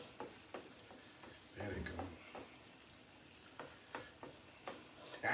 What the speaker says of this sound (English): Get the hot egg on the hot pot. We're gonna make 2 split eggs on this and flip them.